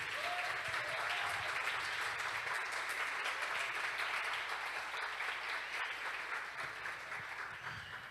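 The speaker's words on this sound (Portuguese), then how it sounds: "Então eu queria uma salva de palmas para esse time maravilhoso." Sustained audience applause at a church celebration event, a dense even wash of many hands clapping for about eight seconds, steady and fairly distant, tapering slightly toward the end.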